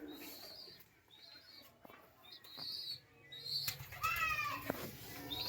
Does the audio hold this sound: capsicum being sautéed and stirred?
no